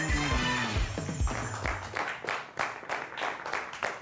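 Sparse applause from a small Hindi comedy poetry show audience, a few hands clapping in loose, scattered bursts after a musical phrase, moderately near and thin rather than a full ovation.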